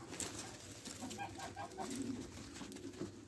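Turtle doves coo softly while squabs are moved into a cage, with faint rustling and bird calls at low level and no talk.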